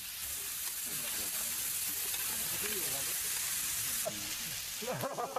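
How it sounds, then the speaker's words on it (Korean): Pork belly (samgyeopsal) sizzles and fries steadily on a hot grill plate, a continuous bright crackle throughout, with people talking over it in the background. "한 달간 쌓였던 철책의 피로가 삼겹살 익는 소리에 싹 날아갑니다"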